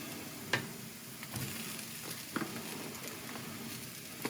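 Mushrooms are added to caramelizing onions in a hot pan for smokehouse burgers, giving a steady low sizzle with occasional soft clicks of stirring, close up and without talk.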